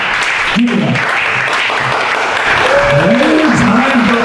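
A comedy club audience applauds a comedian, a dense, loud, continuous wash of clapping from a nearby crowd, with someone talking over it.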